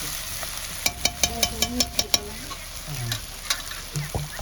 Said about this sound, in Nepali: म पहिला मासु अलिअलि भुट्छु अनि बल्ल प्याज राख्छु